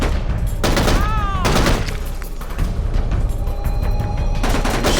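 Short bursts of automatic gunfire in Tunnel Rats: 1968, loud and close, coming in separate clusters with sharp cracks and ringing tails between them.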